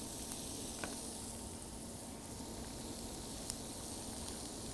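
Half an onion sizzling in about half a stick of butter in a warm pan, a steady faint hiss and crackle with a few tiny pops, continuous and close, with no talking.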